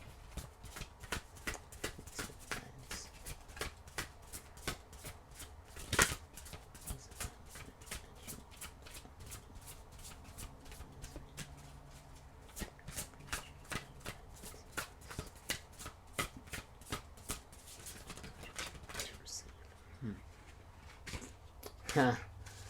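Tarot cards shuffled by hand for a reading, a steady run of crisp riffling flicks and soft card slaps close up, with occasional louder taps and a voice speaking now and then.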